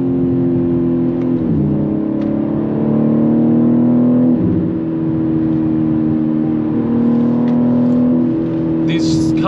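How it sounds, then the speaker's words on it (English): Stock exhaust of a 2023 BMW M3 G80 revving from inside the cabin, a steady loud engine drone that rises and falls with several throttle changes over roughly ten seconds. "Stock exhaust fitted to this, but it's still so loud."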